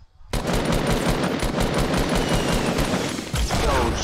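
Rapid automatic gunfire in a Fortnite match, a loud close burst of fast repeated shots that starts abruptly, continues for several seconds, pauses briefly and then resumes.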